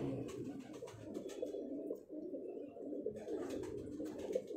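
A fancy pigeon of a rare bloodline, named Numan, coos in low continuous rolling phrases close by, with only brief pauses and no talk.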